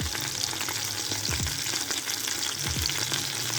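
Chicken thighs pan-searing with garlic and butter over a low flame give a steady close sizzle and crackle, with a few brief utensil scrapes as the meat is stirred.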